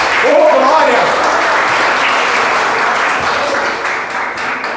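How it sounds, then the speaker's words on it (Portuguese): A church congregation applauding, dense continuous clapping that stays loud and close throughout, with a voice shouting over it near the start. "Tem que dar salve de palmas para Ele."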